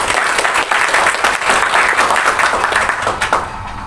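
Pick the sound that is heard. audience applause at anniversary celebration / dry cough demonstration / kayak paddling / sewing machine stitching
audience applause at anniversary celebration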